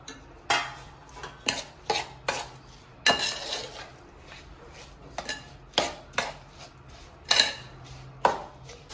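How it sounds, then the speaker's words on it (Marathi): Turmeric and chili pieces being mixed into pickle masala with a spoon in a dish for Maharashtrian turmeric-chili pickle: repeated close scraping and clinking strokes in an irregular rhythm, no talk. "आता आपण जो हळदीच्या लोणच्यासाठी जो मसाला बनवून घेतला आहे त्यात आपण आता हळद आणि मिरचीचे तुकडे मिक्स"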